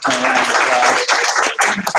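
A round of applause from an evening audience for a guest filmmaker at Utah Valley University, dense steady clapping for about two seconds with a brief dip and a few sharper claps near the end.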